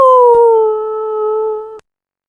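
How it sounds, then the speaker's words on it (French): An animated tiger from an African folk tale lets out a single sustained, wavering tonal howl-like roar, loud and alone, holding steady for nearly two seconds before cutting off abruptly. "la mère du jeune tigre qui se trouvait au milieu de la tour rugit de terreur"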